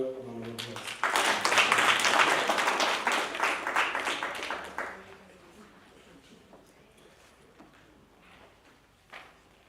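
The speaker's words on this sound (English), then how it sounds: "Will you please give him or her a round of applause?" An audience at a school road safety debate competition breaks into a burst of applause that swells for a few seconds, then thins out and fades to a quiet room.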